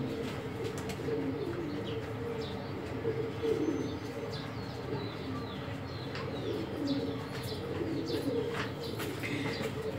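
A pigeon being treated for canker coos steadily close by, its low rolling calls repeating over ten seconds. Faint chirps and the occasional flutter of wings come through in the background.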